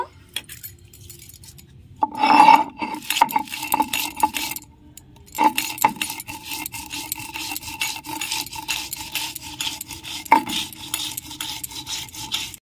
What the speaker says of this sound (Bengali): কিছু সর্ষে আমি নিয়েছি, নুন দিয়ে দিচ্ছি, কাঁচা লঙ্কা, সব একসাথে আমি বেটে নেব।